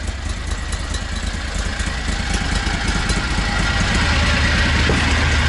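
A Borus Extreme vehicle idles with a loud, throbbing exhaust note that stays close and constant, its low rumble rising slightly toward the end.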